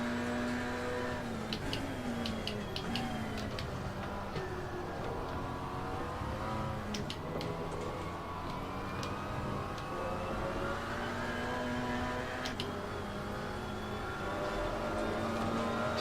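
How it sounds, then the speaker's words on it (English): A Camaro GT4 race car in Assetto Corsa Competizione: a continuous, fairly quiet engine drone that climbs and drops in pitch through repeated gear changes and revs, with no talk over it. "Car sounds nice though. Loving the Camaro so far."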